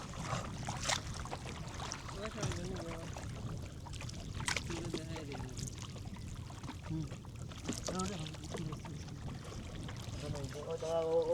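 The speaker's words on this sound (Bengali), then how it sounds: "এখন দেখো নৌকা এই যে হাওরের পানির মাঝে যে কি সুন্দর ঢেউ চলে" A boat moving across open haor water in rural Bangladesh, with a steady wash of water and wind under the hull throughout and people talking over it.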